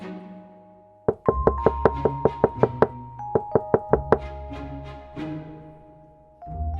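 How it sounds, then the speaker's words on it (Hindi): Frantic knocking on a wooden house door at night, two quick bursts of sharp, evenly spaced raps, about a dozen in all, set against a dramatic musical score. "घबराते हुए दौड़ते हुए आकर उसके घर का दरवाजा ठोकती है"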